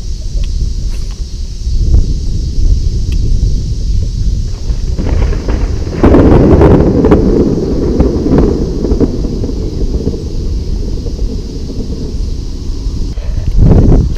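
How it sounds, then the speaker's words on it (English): A loud, sustained rumble of thunder from a nearby lightning strike during an outdoor fishing trip, rolling on for several seconds over steady wind and rain noise. "I don't know if you guys heard that loud lightning strike there or not."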